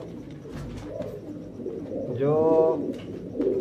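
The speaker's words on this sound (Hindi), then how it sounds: "सियालकोटी कबूतर," Sialkoti pigeons, a breed from Sialkot, Pakistan, give a short rolling coo close by, with soft rustling and a brief spoken word around it.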